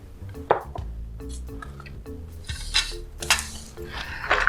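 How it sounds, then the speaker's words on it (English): A fork whisks cornstarch in a bowl, with quick, irregular clinks and taps against the dish, close by and moderately quiet, and no talking. "just to dissolve that cornstarch. Simply whisk it with a fork."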